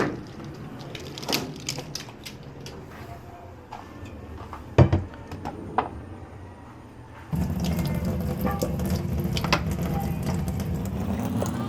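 Water runs at a kitchen sink during washing up, starting after light clatter and knocks of dishes, then a steady loud tap stream fills the second half, with occasional clinks over it.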